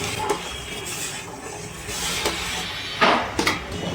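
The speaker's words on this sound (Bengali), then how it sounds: "এবার একটু নাড়াচাড়া করে নিচ্ছি।" A spoon stirs salted water at a rolling boil in a pot on a gas stove before rice goes in, with a bubbling hiss and a few sharp scraping knocks against the metal, close and without talk.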